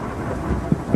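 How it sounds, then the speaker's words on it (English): Thunder after a lightning strike in Ramona, San Diego, a deep steady rumble with a couple of dull thuds, heard alone for about a second. "wait for it, wait for it, bam!"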